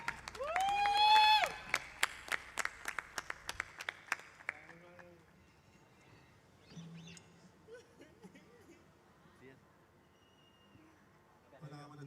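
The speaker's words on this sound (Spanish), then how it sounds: "Podemos brindarle un fuerte aplauso a VS" A burst of clapping from a small audience rings out at first, then thins into scattered claps before voices take over.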